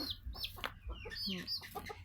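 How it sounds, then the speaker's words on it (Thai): Several silkie chickens cluck and chirp in short, repeated bursts, close by, with a low rumble of background noise underneath. "ไก่ขนไหม ซิลกี้ น่ารัก"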